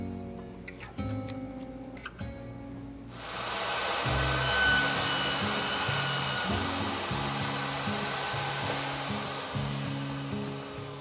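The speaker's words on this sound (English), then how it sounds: "One pass in the table saw gives me a groove that's a perfect fit for the plywood, 1/8 of an inch." Table saw cutting a shallow groove into thin wood, a steady whirring cut that starts abruptly and runs on, preceded by a few tonal hums and clunks as the saw is set up.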